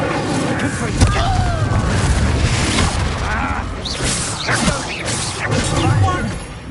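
Hogwarts Legacy combat in which the Incendio fire spell is cast, with repeated booming impacts, crashes and whooshing bursts layered in a loud, chaotic mix that continues throughout.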